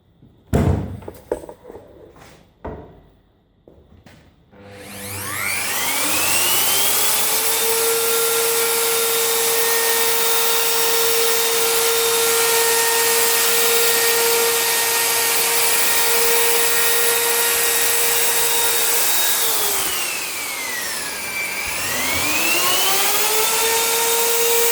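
A router cuts wooden bunk bed parts in a woodworking shop. A few knocks come first, then the motor spins up into a loud, sustained high whine that holds for about fifteen seconds, dips briefly as the load changes, and climbs back up.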